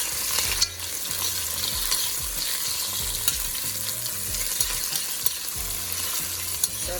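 Garlic, ginger and pepper frying in a pot for Caribbean curry crab, a continuous close sizzle with occasional stirring knocks and scrapes.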